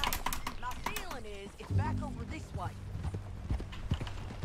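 Horse hooves clip-clop at a steady gallop in the video game Red Dead Redemption 2, running continuously beneath loud, excited shouting from a player.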